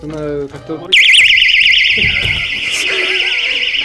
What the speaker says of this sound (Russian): Это сигнализация.